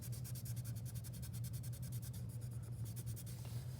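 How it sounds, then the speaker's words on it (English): Steady, rapid scratching of a colored pencil shading back and forth on paper, close up, with a constant low hum underneath. "And then color this arm dark, like this."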